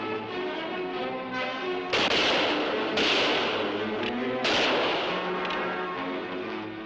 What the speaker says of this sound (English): Use your guns! Let him have it!